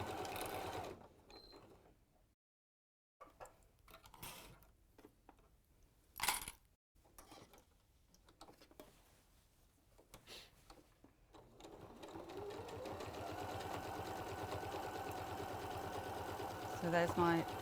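A sewing machine stitches a seam through several fabric layers with a lengthened stitch, running in short bursts at first, then a long steady whirr. People talk over the early bursts, and several sharp clicks come near the end.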